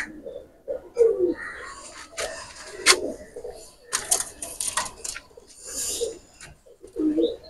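Two pigeons, a running-line male and female, coo in short soft bursts after being let go, with wing flutters and faint background voices scattered through.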